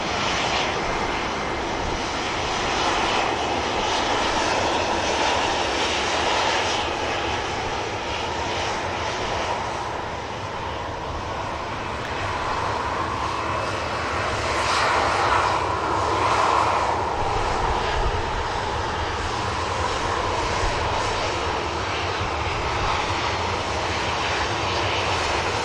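Ryanair airliner jet engines roar loudly and continuously at an airport, a broad sustained rush with no voices.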